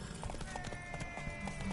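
A horse galloping in The Witcher 3 video game, with quick, rhythmic clip-clop hoofbeats over a busy background, brief and moderately loud.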